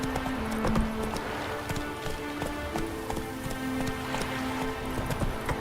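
A horse gallops in the video game The Witcher 3: Wild Hunt, its hooves beating a steady, quick clip-clop rhythm close by over a bed of game music and ambience.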